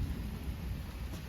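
A deep, continuous rumble of thunder rolls through a thunderstorm, with a steady wash of rain noise underneath it.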